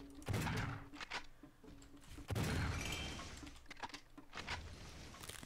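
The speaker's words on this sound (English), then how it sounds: "I can go like that and shoot that cart" Bursts of gunfire hitting a cart in the side-scrolling zombie shooter Zombotron, a few loud, close shots with crashing impacts and breaking debris, arriving in two or three separate clusters.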